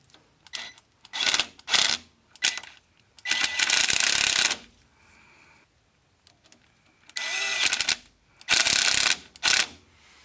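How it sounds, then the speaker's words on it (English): A ratchet tightens hose clamps on a car fuel line during a Honda CR-V rebuild, with loud, close bursts of rapid clicking broken by short pauses, and no talk. "now I'm just going to go ahead and tighten up these hose clamps"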